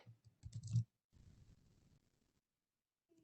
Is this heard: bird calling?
no